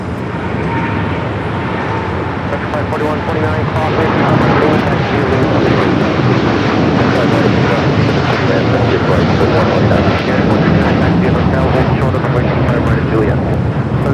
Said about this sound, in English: Next takeoff here on the south side, United Flight 32, heading to Tokyo Narita, 787-9 Dreamliner.